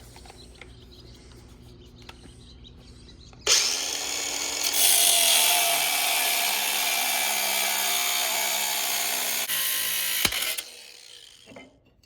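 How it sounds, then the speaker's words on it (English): An angle grinder whines up and cuts into angle iron with a harsh, bright, sustained screech for several seconds, then spins down; quiet shop noise surrounds it. "I'm cutting this angle iron"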